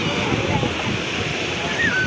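Sea waves surging and breaking on a beach, a steady loud wash of surf with wind noise over the microphone, while people talk nearby.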